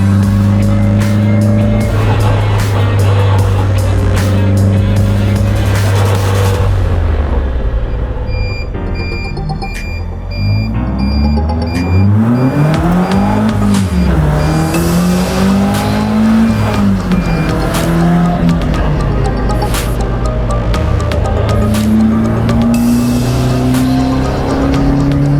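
A Caterham Roadsport race car laps the Zandvoort circuit, its engine screaming through repeated upshifts and downshifts with rising and falling pitch, brief tire squeal, and a sharp throttle-off dip midway before pulling hard again.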